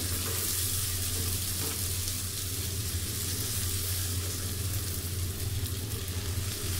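Shrimp sizzles and fries in a pan for a coconut-milk shrimp curry, a steady, close, dense crackle that holds unbroken throughout with no talking.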